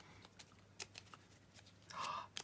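A deck of drag-themed trading cards is shuffled by hand, giving quiet, soft riffles and flicks in short bursts, with a longer riffle near the end.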